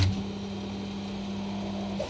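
A tool-changing 3D printer with thirteen heads, run by Klipper firmware on a Raspberry Pi and five Arduinos, giving a faint steady motor hum with a low tonal drone throughout, no talking.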